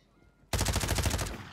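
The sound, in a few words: shotgun fire in Call of Duty Warzone video game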